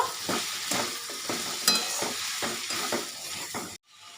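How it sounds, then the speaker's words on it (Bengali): Chopped capsicum frying in a pan for chicken patties, with a steady close sizzle and a regular rhythm of spatula strokes scraping the pan, ending abruptly in near silence. "ক্যাপসিকাম এটা আমি এক মিনিট নেড়ে নেব"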